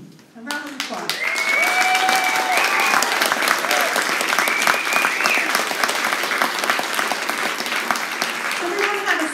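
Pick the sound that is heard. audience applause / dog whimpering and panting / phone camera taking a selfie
audience applause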